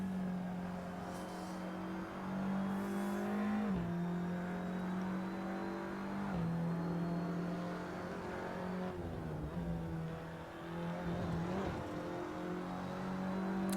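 Steady droning engine of a TCR touring race car lapping Laguna Seca in a racing game, pitch climbing through each gear and dropping sharply at shifts and braking, continuous and close with no talking.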